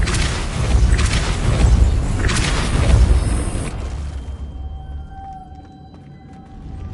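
Depulso force spell cast in Hogwarts Legacy on PS4: a pair of deep, booming whooshes rolling out loudly, then fading into a quiet tail with faint game tones.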